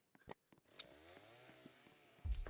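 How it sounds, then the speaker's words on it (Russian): A chainsaw in the video game 99 Nights in the Forest revs up faintly, with a rising and falling engine whine among scattered clicks, before a louder burst near the end. "Ой, я уже слышу бензопилу."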